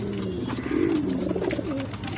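Pigeons coo in a breeding room, a steady run of low, rolling coos close by with several birds overlapping, and a faint higher chirp early on.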